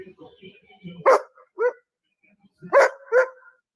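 A dog barks in the distance, two pairs of short muffled barks separated by a pause, with faint low murmuring before them.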